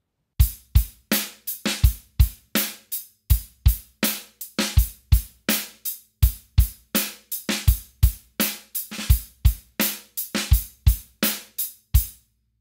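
Drum kit playing a groove with the snare taking the place of the bass drum, crisp hits and cymbals in a steady rock rhythm, close and clear with no talk.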